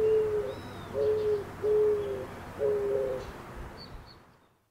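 A bird sings from a pole outdoors during birdwatching, giving a few clear, short whistled phrases spaced about a second apart, moderately close, with no talking.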